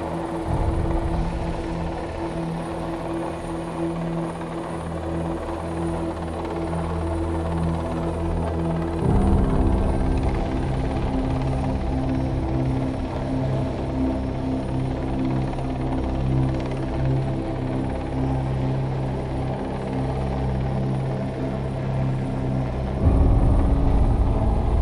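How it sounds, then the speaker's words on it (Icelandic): A Coast Guard helicopter hovers low over the sea, its rotor and engine producing a loud, steady thumping drone that stays close and continuous throughout, with no voices. "Því undir þyrlunni verður mikið særok og það getur verið erfitt að athafna sig."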